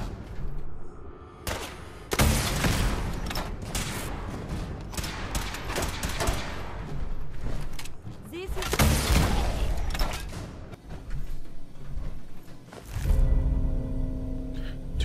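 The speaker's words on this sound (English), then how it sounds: "Two shots." Gunfire in Fallout 4, heard as loud rattling bursts and bangs in several bouts across the stretch, mixed with other game noise.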